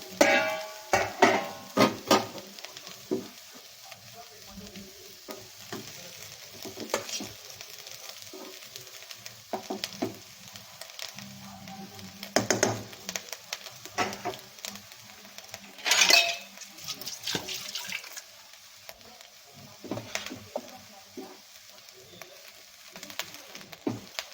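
Coconut rice being stirred and mixed in a hot pan, with a low sizzle under repeated scraping and clinking of a metal spoon against the pan, close and busy throughout.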